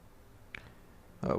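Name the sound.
computer mouse click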